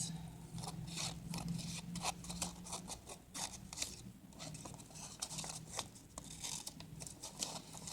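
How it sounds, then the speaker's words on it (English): Scissors snip through paper along a crease for a papercraft pocket embellishment, a close, quiet series of crisp crunching cuts in an irregular rhythm. "And cut along that crease."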